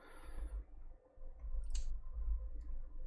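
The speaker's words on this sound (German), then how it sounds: "jetzt muss ich hier mit der Tastatur wieder was machen" Computer keyboard keys pressed while playing the train-driving game Metro Simulator 2, heard as a few faint, soft clicks over a low background hum.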